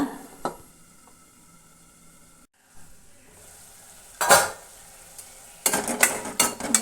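Curry being stirred in a pot on low flame, with a faint sizzle underneath, a few scraping clinks of a spoon against metal, and a lid clattering onto the pot in bursts near the end.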